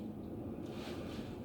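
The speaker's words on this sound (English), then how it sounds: "Just listen to the wind." Wind blowing outside a window on a cold day, a steady broadband rush with gusty swells, heard alone with no talking.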